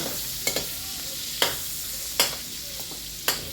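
Ginger and garlic sautéing in a pan for pinakbet, a steady soft sizzle broken by four or five sharp scraping clicks of a spatula stirring against the pan, close and moderately loud.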